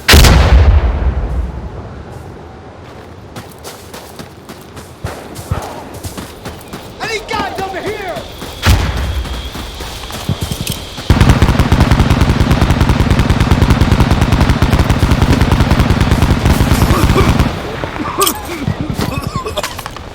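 Grenade blasts and rapid gunfire in a snowy Insurgency Sandstorm match, with loud sharp bursts and heavy sustained firing, while players shout and talk over the combat.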